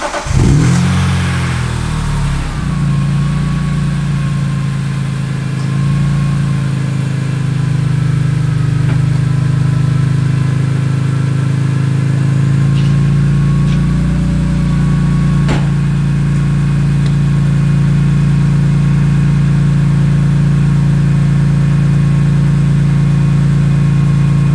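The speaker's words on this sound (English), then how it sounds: "It's time to start up the M3 for the first time since installing the new exhaust." A BMW E46 M3 fitted with a new aftermarket exhaust cranks and fires up, then holds a deep, loud, steady idle with occasional blips of revving, close by and alone for about twenty seconds.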